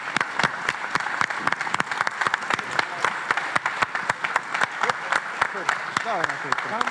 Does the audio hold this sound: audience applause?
yes